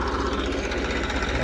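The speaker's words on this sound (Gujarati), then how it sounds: "ટ્રેક્ટર છે" Close, steady low droning rumble of a tractor engine running during night farm work loading jowar, with a pulsing throb and no break.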